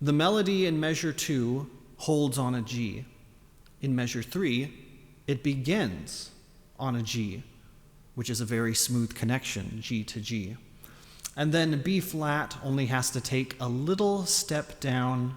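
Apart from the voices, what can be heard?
No everyday noise stands out behind the speech.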